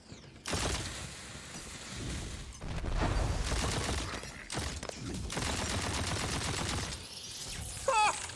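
A gun fires in the video game Tiny Tina's Wonderlands, loud and close, in sustained rapid bursts split by brief pauses, with no voices.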